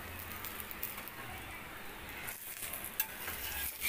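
An aloo paratha fries in butter on a pan, a steady soft sizzle and crackle with faint stirring scrapes and small pops, close but quiet throughout.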